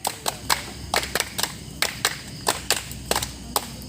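Children playing a clapping game at a school Qur'anic camp, with bursts of crisp hand claps in a quick irregular rhythm, grouped in short clusters over a quiet background.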